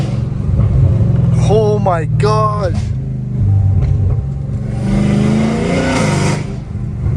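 A Dodge Hellcat Redeye rumbles and revs inside a parking structure, its deep engine tone swelling with a rising whine later on, while a man briefly exclaims over it near the start.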